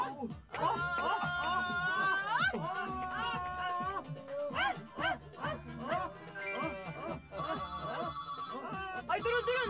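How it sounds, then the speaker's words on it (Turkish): A telephone rings during a lively birthday party, its bell tones repeating over continuous music, chatter and busy background noise. "Telefon yine çalıyor."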